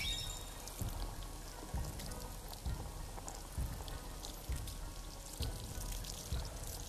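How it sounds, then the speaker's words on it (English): Equal parts soy sauce, Shaoxing wine and rice vinegar pour onto mushrooms in a pan, a soft continuous splashing sizzle with a few louder pulses, close and without talk. "Add liquids to the mushrooms to create a sauce. Use equal parts soy sauce, Shaoxing wine, and rice vinegar."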